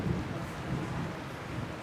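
Low rumbling thunder rolls steadily and moderately loud through the whole stretch, a continuous distant storm growl with a faint rain-like hiss and no voices.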